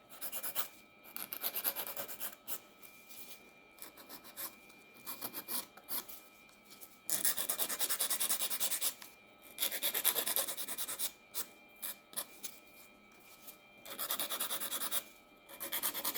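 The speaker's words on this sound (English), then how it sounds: "then you use your nail file and touch up your shape that you desire" A nail file rasps back and forth across the tip of an acrylic nail extension in close, repeated bursts of scraping strokes with brief pauses between them.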